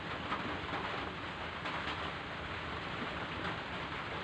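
Steady rain falls on a rainy morning, a dense continuous hiss with no breaks and no voices.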